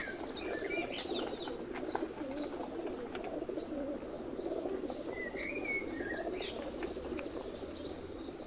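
Pigeons from a small kept team coo and chirp softly amid a steady outdoor hum, with scattered calls and occasional wing flutters in the distance.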